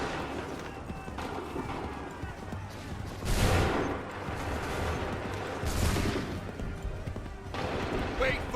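Musket volleys at the Battle of Bunker Hill in Assassin's Creed 3 crack out in two loud bursts over a busy battlefield din, with shouted voices and commotion between the volleys.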